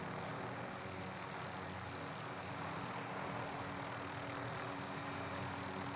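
Helicopter engine and rotor in a video game drone in a steady, faint whir, unchanging throughout with no voices.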